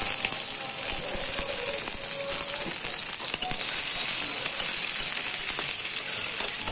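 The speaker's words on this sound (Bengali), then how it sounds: "তো ওই তেলেই পেঁয়াজ আর রসুনটা দিয়ে দিচ্ছি" Onion and garlic dropped into hot oil left over from frying eggs give a moderate, even sizzle with faint crackles and occasional light clinks of a utensil.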